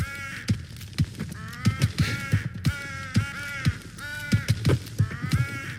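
Repeated harsh crow caws ring out in a steady series, loud and close, with several calls overlapping into a rough, raspy chorus and no talk over them.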